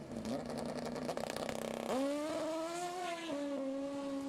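A nitromethane-fueled drag racing dirt bike roars loud and close at a dirt drag race, its engine note rising in pitch as it revs and accelerates, with a sharp upward sweep midway.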